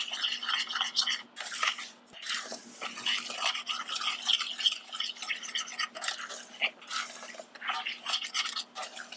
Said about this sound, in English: now I'm going to add 1/2 cup of plain white sugar. I'm going to stir that up.